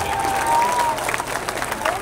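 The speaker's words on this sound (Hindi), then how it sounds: "अब ताली बजा लो, अब बजा लो ताली" Applause from a crowd at a political rally in Nawada, Bihar, a brief burst of clapping with a voice speaking over it.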